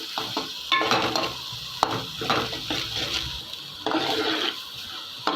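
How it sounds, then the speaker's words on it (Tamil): Carrot poriyal is stirred in a pan: spatula scrapes and shuffles come in repeated strokes over a soft sizzle, close by and with no talking. "பாருங்கள், நல்லா கிளறி விடணும்."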